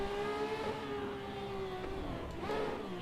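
A street car engine in the Tokyo highway racing game Shutoko: a steady, fairly loud, slightly wavering drone close by, lifting briefly into a rev near the end, with no talking.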